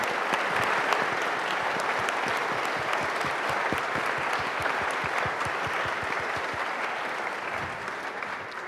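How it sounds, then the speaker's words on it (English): An audience applauding a filmmaker, dense sustained clapping with a few distinct nearby claps, holding steady and easing slightly toward the end. "let's raise applause to him"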